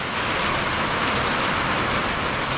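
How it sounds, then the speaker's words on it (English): Steady rain falls outside during exhaust work on a Nissan 350Z undergoing an HR engine swap, a dense, even hiss that holds at the same loudness throughout with no voices. "if it ever stops raining"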